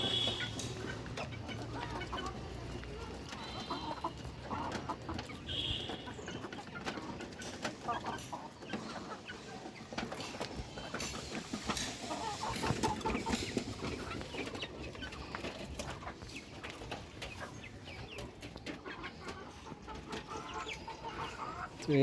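Hens cluck repeatedly on a rooftop poultry farm, a steady close chorus of clucks and fowl calls filling the background with no talk.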